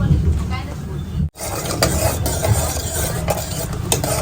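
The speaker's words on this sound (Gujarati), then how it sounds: "પહેલાં તો આપણે કાજુ ફ્રાય કરી લઈશું" Cashews frying in hot oil in a pan, a continuous close sizzle with scraping stirs and occasional light clinks of a spoon, broken by one brief silent gap.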